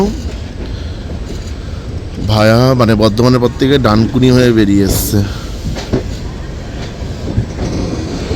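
A Bikaner-Howrah express train rumbles past with steady rolling noise throughout, while someone talks loudly over it in the middle.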